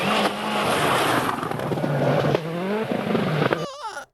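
WRC rally cars race past at Rally Finland 2000, engines screaming loud and close on the gravel stage, revs climbing through gear changes before the sound cuts off abruptly.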